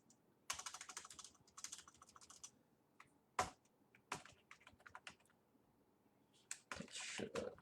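Computer keyboard keys tapped by hand while entering code, in quick uneven bursts of clicking with short pauses, close and fairly quiet with no talk over it.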